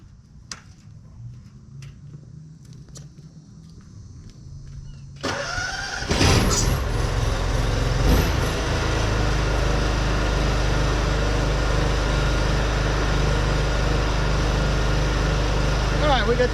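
A pressure washer running at 40% power and 10 gallons a minute with a turbo nozzle, cleaning weeds from concrete. A few quiet clicks come first, then the engine starts up into a loud, steady, continuous drone.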